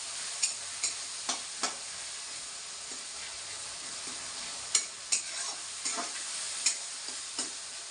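A spoon stirs and mixes Andhra fish curry in a pan, giving a string of soft scraping strokes over a quiet, steady sizzle, with no one talking.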